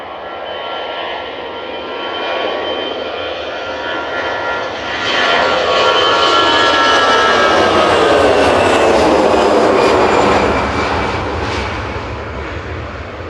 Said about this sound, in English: Noisy A320 Classic